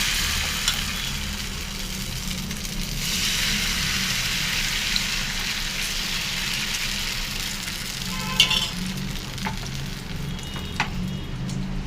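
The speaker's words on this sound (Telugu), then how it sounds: "ఇదిగోండి పెసరట్లు వేస్తున్నాను నేను." Pesarattu, a moong dal dosa, sizzles steadily and loudly on a hot pan, a continuous close frying hiss with occasional small pops and scraping touches.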